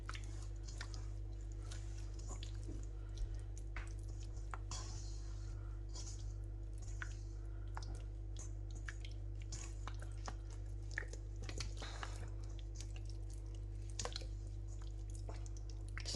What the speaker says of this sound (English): Make sure you mix it in thoroughly into the gashes and then turn it around.